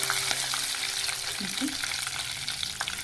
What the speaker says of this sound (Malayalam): കറിവേപ്പില ഇളക്കി കൊടുക്കാം